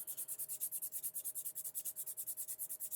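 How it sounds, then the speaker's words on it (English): A rough sanding stick scrubs a resin print in quick, even back-and-forth strokes, about ten per second. The rasping is close but faint. "I'm going to sand this smooth"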